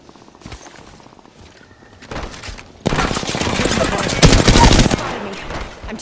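Automatic gunfire in Apex Legends, rapid bursts growing louder and denser midway, with sustained heavy firing and impacts through the second half, no voices.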